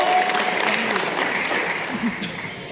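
A convention audience claps at an anniversary event, steady moderate applause throughout with a faint crowd murmur underneath.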